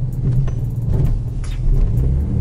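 A Ford Mustang engine idles with its exhaust set to quiet mode, giving a low, muffled rumble with slight fluctuations, heard up close from inside the car along with small interior clicks and rustles.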